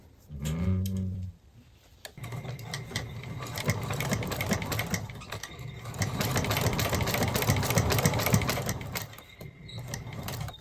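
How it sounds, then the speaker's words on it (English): A sewing machine top stitching credit card pockets on a shoulder bag, a brief voice at the start, then steady whirring runs of rapid needle strokes with a short pause between, close and fairly loud. "Let's go ahead and top stitch this in place"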